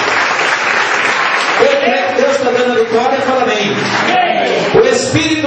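Congregation in an evangelical church service clapping hands together in steady, dense applause, with a preacher's voice speaking over the clapping throughout.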